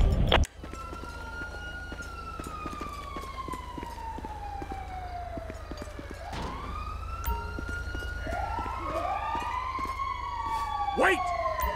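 An ambulance siren in the video game GTA 5 wails in long sweeping tones, joined by overlapping whoops and yelps near the end, loud and continuous over low engine rumble.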